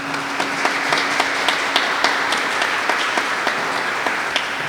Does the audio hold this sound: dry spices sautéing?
no